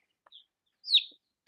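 Buff Orpington chickens give a few short clucks and chirps, quiet and sparse against a near-silent background.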